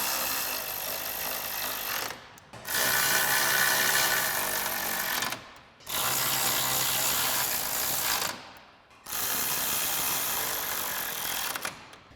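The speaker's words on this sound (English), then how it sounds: "And then we'll take our 10mm socket and tighten these all down." A ratchet with a 10mm socket tightens grille bolts on a 2014–2015 Chevrolet Silverado 1500 pickup, giving three long runs of rapid close clicking separated by short pauses.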